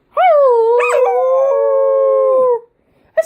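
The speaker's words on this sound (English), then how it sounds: "You learned how to howl, kind of on command." A dog howls on command, one long, loud, close wavering howl of about two and a half seconds, with a brief start of a second cry after a pause.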